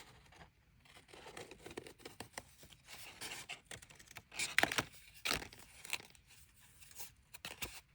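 Scissors cut paper into a heart-shaped notebook with short choppy snips, trims just inside a drawn line, quiet crisp cuts and rustles coming close and irregular.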